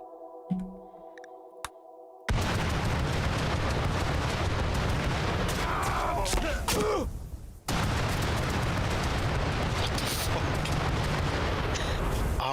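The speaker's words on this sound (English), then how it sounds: "The great flashbang." A flashbang goes off in the Rimworld video game, cutting in as a sudden loud, sustained roaring blast with a brief dip partway through before the wash of noise resumes.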